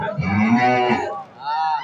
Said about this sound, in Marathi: गाई वासरांचं गोठ्यामध्ये हंबरणे